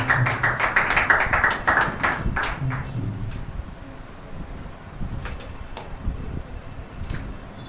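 A church congregation at a Thursday worship service claps to welcome a preacher, starting with a dense burst of close applause that fades into scattered claps, with a murmur of voices underneath.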